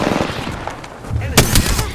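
Rapid automatic gunfire from the video game Apex Legends, a burst of close, loud shots rattling over two seconds with a sharp crack near the end.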